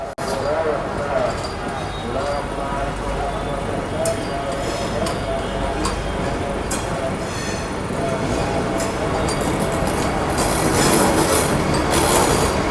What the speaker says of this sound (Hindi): वाराणसी जंक्शन पे अभी ओवरटेक करके जा रही है गोमती नगर पटना वंदे भारत एक्सप्रेस